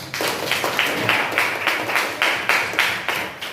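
A classroom of children gives a round of rhythmic applause, loud evenly spaced hand claps pulsing about twice a second with no voices over them.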